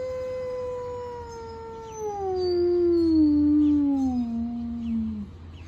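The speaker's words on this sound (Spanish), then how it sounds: "Escuchó el aullido de un lobo." A long, wavering wolf howl, loud and close, sliding slowly downward in pitch over several seconds before trailing off, with no voices.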